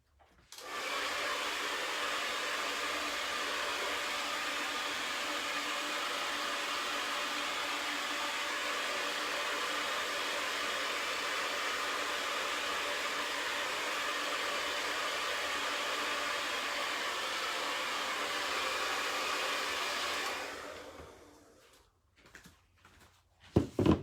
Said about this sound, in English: let me try this really quick with the dryer.